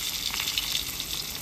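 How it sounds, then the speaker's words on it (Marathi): Fish pieces drop into hot oil in a pan on low gas and give a soft, crackly sizzle that stays even for a brief moment, close and fairly quiet, with no speech. "आता आपण हे फ्राय करायला ह्याच्यामध्ये पीस सोडतो."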